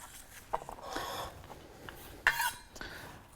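Knife working on a large garlic clove on a cutting board, a few sharp clicks and taps with a louder knock midway and light scraping between, close and fairly quiet.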